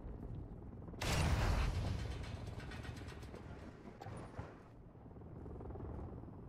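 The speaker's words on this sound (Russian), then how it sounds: "Это вертолет." A helicopter in a video game sweeps in suddenly with a loud rotor roar and rhythmic chopping, then fades back into a busy mechanical game background.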